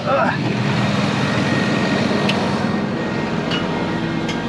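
A farm tractor engine runs steadily and loudly at close range, a continuous low rumble with a few faint clanks.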